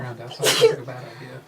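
A single sharp sneeze breaks in close by during casual indoor conversation, with voices speaking before and after it.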